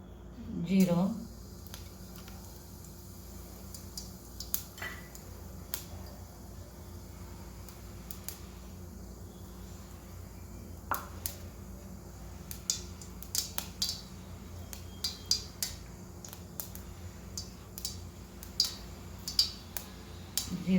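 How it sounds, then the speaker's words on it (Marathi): Mustard seeds crackle in hot oil at the start of tempering for a Rajasthani cauliflower dish: scattered sharp little pops and ticks, sparse at first and growing busier, close and fairly faint over a steady low hum, with a voice in the background. "मोहरी तडतडली"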